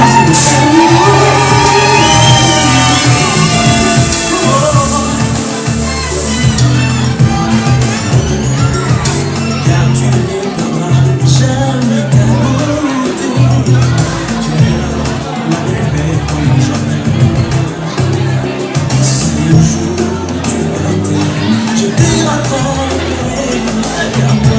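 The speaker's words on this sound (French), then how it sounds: "des acclamations s'il vous plaît" Wedding guests cheer and shout together in a loud, continuous crowd roar with whoops and babble that never lets up, and music-like tones are audible near the start.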